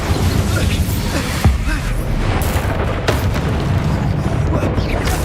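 An Incendio fire spell cast in Hogwarts Legacy lands as a deep, booming burst amid ongoing combat noise, with sharp impacts and rumbling blasts filling the loud, dense mix.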